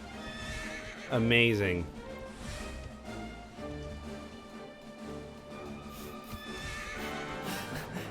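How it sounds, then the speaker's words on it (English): Horse in the video game Dragon Quest 11, one loud close whinny early on, then clip-clopping hooves over game music, with a person talking at times. "Look at this big horsey."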